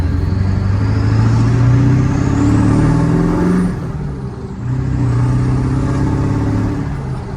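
A hydra-tuned 7.3 Powerstroke diesel F-250 pickup with a 6-speed manual pulls at half throttle, a loud, steady low engine drone heard from inside the cab, dipping briefly mid-pass before building again.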